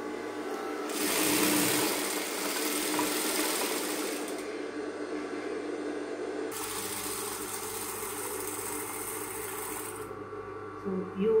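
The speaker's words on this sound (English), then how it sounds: "You want to sew very close to the edge of the crinoline and the organza." A sewing machine stitches close to the edge of layered crinoline and organza, running in two steady, loud bursts with a short slower stretch between them and a few mechanical clicks at the end.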